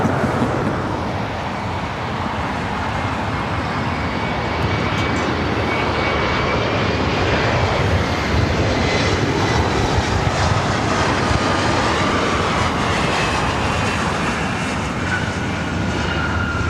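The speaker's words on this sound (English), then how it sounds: "United Airlines Flight 1219 heading to Kahului, 737-800" United Airlines Boeing 737-800 jet at LAX, a steady broadband engine roar with a faint whine, loud and continuous throughout.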